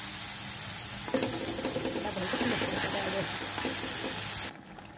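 Onion and spices such as cumin and coriander powder frying in a pan with melted jaggery, a steady broadband sizzle that jumps louder just after the first second, then cuts off sharply near the end.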